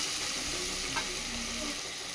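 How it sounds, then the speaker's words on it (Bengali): Onions fry with turmeric and salt in a pan, giving a dense, continuous close sizzle with a faint stirring scrape and no voices. "আর পেঁয়াজটা খুব ভালোভাবে ভেজে নিচ্ছি"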